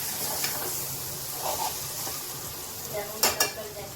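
Vegetable curry sizzles in a hot pan as a spoon scrapes and stirs it, giving a soft steady frying hiss broken by intermittent clinks against the pan.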